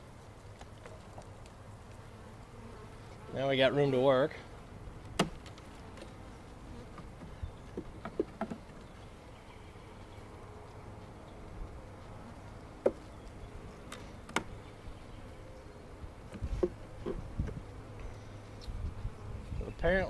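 Honeybees buzz around an opened hive during an early-season inspection, a faint steady drone with louder buzzing bursts as individual bees fly close, broken by knocks and scrapes of hive tools and someone speaking briefly.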